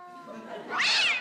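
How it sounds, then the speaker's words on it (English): A cat meows loudly in one rising, strained cry near the end, close by, with faint voices and room noise before it. "I'm just trying to soothe the cat."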